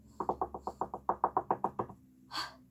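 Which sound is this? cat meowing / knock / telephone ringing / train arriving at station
knock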